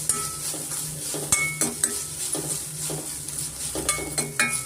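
Fresh grated coconut roasting in ghee in a pan, steady soft sizzle under repeated metal spoon scrapes and clinks against the pan, close and moderately loud, no talking.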